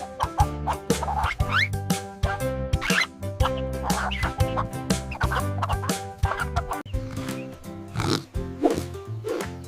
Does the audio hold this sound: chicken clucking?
yes